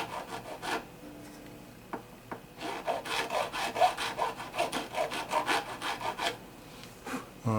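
A file rasps back and forth in a string notch on a Gibson SJ-150 acoustic guitar, close and dry, with a few tentative strokes followed by a steady run of rhythmic scraping passes.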